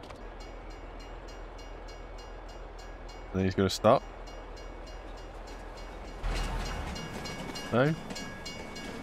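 Train in Farming Simulator 22 rumbling steadily with clattering wheel noise and a few short horn or whistle blasts, while someone talks over it.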